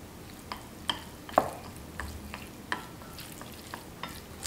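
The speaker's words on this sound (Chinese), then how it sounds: "提前泡好的粉条用刀切碎，放入碗中，加入少许的老抽上一下颜色，再来一点调料油，搅拌均匀。" Chopped, pre-soaked glass noodles mixed with a little dark soy sauce and seasoning oil in a bowl, stirred with soft, scraping strokes and a few light knocks, close and fairly quiet, with no talking.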